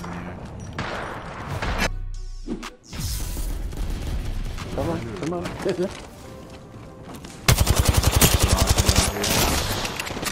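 Rampart's Sheila minigun firing in Apex Legends, a loud, rapid stream of evenly spaced shots that kicks in near the end after a stretch of other gunfire and game noise, with a player talking over it.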